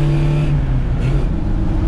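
A Fiat 147 engine pulls hard at full throttle in third gear on a test track, a steady droning hum heard from inside the car with no talk over it.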